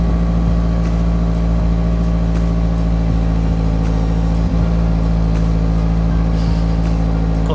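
A car engine rumbles loud and close, holding a steady, deep running drone throughout with no pauses.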